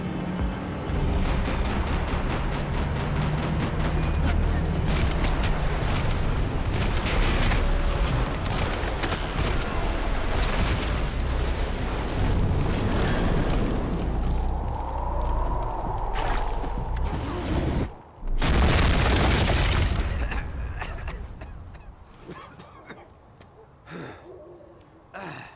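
Gunfire exchange in the Max Payne 3 video game, with dense rapid shots and impacts through most of the stretch, a loud burst near the end, then fading to sparser shots.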